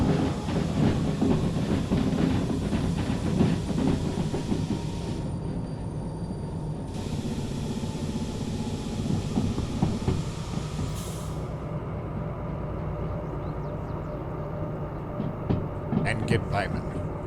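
A freight train with wagons rolls past a station in the railway simulation game Derail Valley, a steady loud rumble with rhythmic wheel clatter and hiss, while a voice speaks over it.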